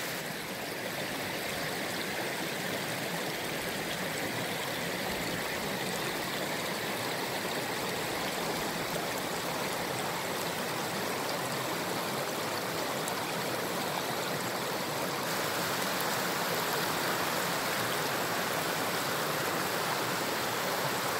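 The Slate River rushes and flows steadily in a broad, unbroken wash of water noise, loud and constant throughout.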